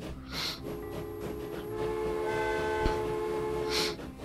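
Two trains pull away together in Train Fever, horns sounding at the start and end over a steady engine drone and rail rumble, with a soft clank in between and no talking.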